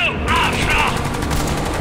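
Turret gunfire in the video game Crysis 3, a rapid stream of loud, close bursts that run continuously over dense game noise, with no voices.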